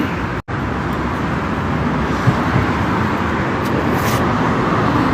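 Constant traffic from two busy main roads nearby, a dense, even roar of passing vehicles with no break.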